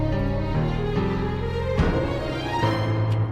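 Virtual orchestral violins layered with other sampled sections play a sustained, swelling passage of the God of War theme, with held chords shifting every half second or so, steady and full.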